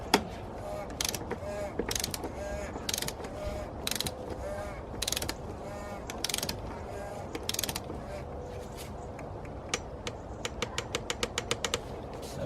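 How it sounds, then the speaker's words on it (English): Torque wrench ratcheting as it tightens the oil filter housing on a BMW M47/M57 diesel engine, a long run of evenly spaced clicks that speed up toward the end, close and moderately quiet with no talk. "now we'll go ahead and torque it down to 25 Newton meters"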